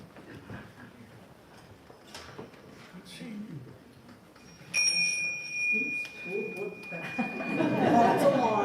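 Chimes rung at the start of a service, a bright sustained ringing tone entering midway and lingering, heard under ongoing talk and room noise.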